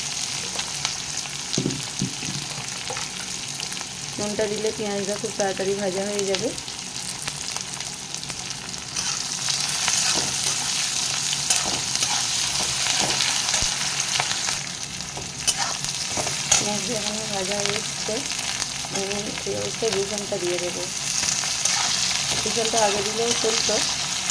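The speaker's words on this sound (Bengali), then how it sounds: "পেঁয়াজটা পুরো ব্রাউন ব্রাউন করে ভেজে নেব আর পেঁয়াজের মধ্যে আমি সামান্য নুন দিয়ে দেবো" Onions fry in a pan with a pinch of salt, browning with a steady close sizzle while a spoon stirs and scrapes at intervals. No one speaks.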